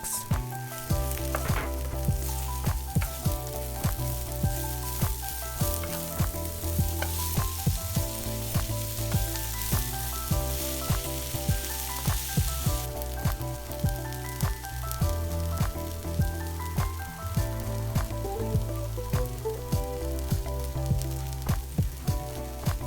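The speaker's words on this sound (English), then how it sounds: "Add in the spring onions and continue to mix." Salt and pepper spare ribs are stir-fried with spring onions, making a constant, close sizzle and crackle broken by regular scrapes and clinks of stirring throughout.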